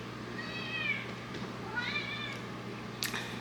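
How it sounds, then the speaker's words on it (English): A cat meows twice in long, rising-and-falling cries, quiet and indoors, followed by a brief sharp click near the end; no one speaks. "He's never meowed so much in his life."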